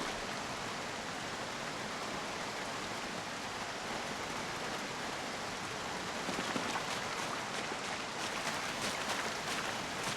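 Steady rain falls in a dense, even hiss that fills the whole stretch without pause, with a few sharper drops near the end and no voices.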